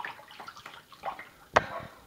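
Cat splashing with its feet in a water dish: small soft splashes and drips at a low level, then one sharper slap of water near the end, close by.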